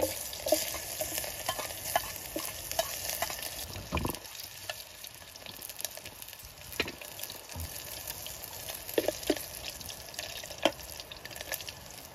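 Onions frying in hot cooking oil in a pan at a rainy forest riverside camp, a steady loud sizzle with repeated scraping stirs and occasional clinks, one heavier bump near the start, no talking.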